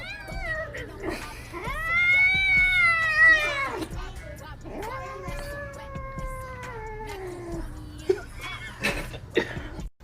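A pet cat meows loudly in two long, drawn-out wails, the second sliding downward, with brief low murmurs and faint scuffing at the end.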